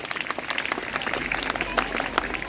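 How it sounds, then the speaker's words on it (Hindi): Steady applause from a crowd at a school Independence Day celebration, dense clapping throughout with a few sharper claps standing out. "जोरदार तालियां दीपांशु के लिए"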